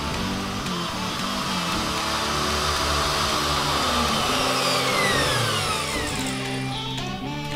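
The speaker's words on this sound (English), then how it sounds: "got my router ready to go, got it set based on the depth on the screws and windows. So now it's just time to start cutting out a pattern." A handheld router cuts a pattern into an interior wall panel of a converted bus, its steady high-pitched whine running loud and close throughout, with the tone bending as the bit bites the material.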